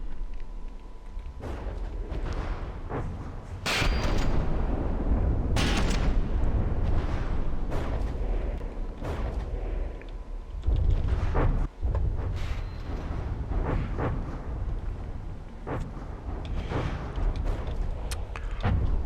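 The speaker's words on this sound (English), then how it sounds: "His cram cannons aren't really causing too much of a problem." Cram cannons firing in the video game From The Depths: repeated deep, booming blasts at irregular intervals, heavy and rumbling, layered over a continuous low battle roar without speech.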